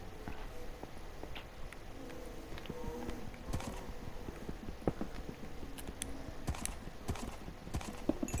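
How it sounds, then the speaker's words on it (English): Hollow Minecraft horse hoof clip-clops tap along at an uneven pace, faint against a steady background hum, with a few sharper clicks scattered through. "What, a horse?"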